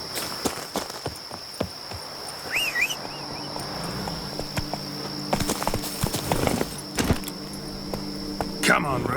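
Roach the horse trots along in The Witcher 3: Wild Hunt, hooves clip-clopping in an irregular rhythm over steady insect chirping, with scattered game sounds and a brief voice in between.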